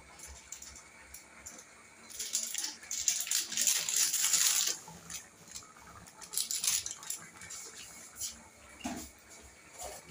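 Crab curry stirred in a metal pan after garam masala goes in, with bursts of scraping and clattering utensil sounds over a quiet background, loudest in the middle, and no voices.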